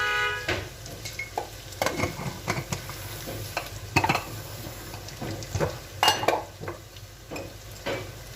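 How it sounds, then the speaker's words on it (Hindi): Mixed vegetables with cabbage, black pepper, cumin and fresh coriander are stirred in a pan, with repeated scraping and clinking of a utensil over a soft sizzle, close and fairly loud. "अब इन सब चीज़ों को मिक्स कर लेते हैं"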